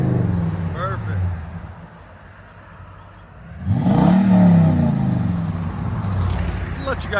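The throaty idle of a 2016 Toyota Tundra 5.7L V8 through a 14-inch Magnaflow dual-in, single-out exhaust dips, then swells into one loud, sustained rev that rises and holds before settling.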